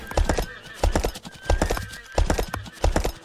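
Horse hooves clip-clop in a steady galloping rhythm while a character rides and hunts on horseback in the video game Kingdoms, with loud, close, evenly spaced hoofbeats throughout.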